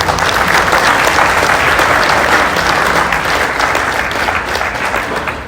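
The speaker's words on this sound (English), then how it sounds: "Give a round of applause." Sustained audience applause at an evening recognition speech for the Hidalgo Society's Hispanic of the Year, a loud, dense wash of clapping that holds steady for several seconds, with no talk over it, easing slightly toward the end.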